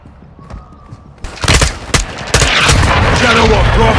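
Gunfire from the video game Call of Duty Modern Warfare 2, with quiet ambience, then loud shots bursting in and building to sustained heavy fire with booms and thuds.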